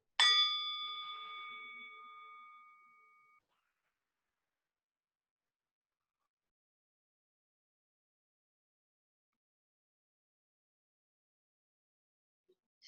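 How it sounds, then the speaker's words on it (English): A single gong strike during a quiet meditation session rings out with a bright, shimmering tone that decays over about three seconds, followed by near-total silence. "I'm going to ring the gong here"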